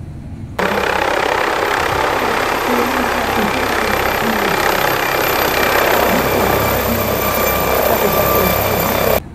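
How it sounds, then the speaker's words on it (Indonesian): A toy helicopter runs with a steady, loud whirring buzz that starts abruptly and continues unchanged for several seconds before cutting off, with children's voices faintly under it. "Wow, keren banget helikopternya teman-teman."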